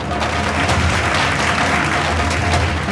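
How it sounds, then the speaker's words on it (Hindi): Enthusiastic applause from a studio audience at a Bhojpuri singing reality show, a loud, dense, continuous burst of clapping for about three seconds with no speech over it. "जोरदार तालियां"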